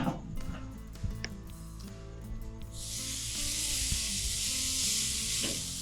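Tomahawk steaks hit a hot charcoal grill: after a few light clanks and taps, a sudden loud, sustained sizzle and hiss bursts in close and keeps going without letting up.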